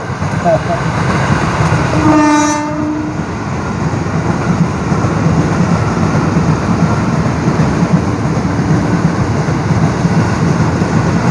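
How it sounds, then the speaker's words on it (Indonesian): A train rumbles past close by a fishing spot in Kalideres, a loud continuous roar of wheels on rails, with a brief horn blast early on. "Ada kereta lewat"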